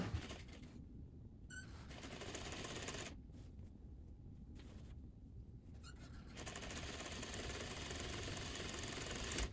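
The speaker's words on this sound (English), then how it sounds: "we're gonna sew right along this edge from here to here" A sewing machine runs steadily, stitching along the edge of a denim jeans pocket, its continuous mechanical whirr fairly quiet and close, with no talking.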